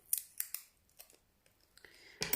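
Scissors snip several times through adhesive tape in quick, sharp, close-up cuts, quiet between strokes, with a final louder snip at the end.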